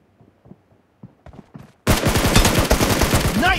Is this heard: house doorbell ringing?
no